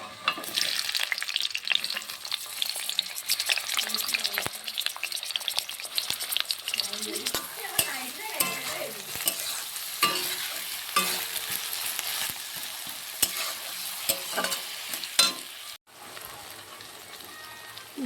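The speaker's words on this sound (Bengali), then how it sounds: "গরম হয়ে গিয়েছে, এখানে পেঁয়াজ আর টমেটোটা দিয়ে দেব।" Onion and tomato fry in hot oil in a wok, giving a steady, loud sizzling hiss with occasional stirring clatters throughout. There is no talk.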